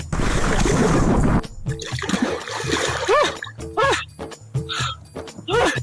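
A loud splash as a person jumps into outdoor water, a burst of spray and churning lasting over a second, followed by quieter sloshing and movement while voices talk over it.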